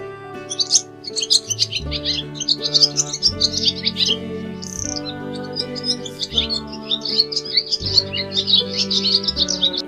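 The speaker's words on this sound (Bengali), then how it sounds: "ঘুঘু পাখি ডাকছে গাছে।" A dove calls from a tree, a steady run of high chirps and tweets repeating over a looping low tonal backing, moderately loud and close throughout.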